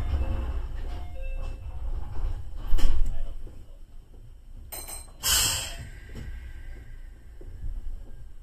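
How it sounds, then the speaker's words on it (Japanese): Doors of a Meitetsu 1200 series Panorama Super rapid limited express close at a station on the Nagoya Main Line on a rainy day, with a brief hissing thump over the train's steady low rumble. "ドアを閉めます。 ご注意ください。"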